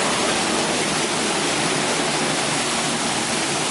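Loud, steady rushing of water churning past under a water wheel, a continuous broadband roar with no pauses and no voices.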